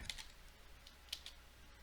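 A handful of soft computer keyboard keystrokes in two small bursts, faint and close, in an otherwise quiet room.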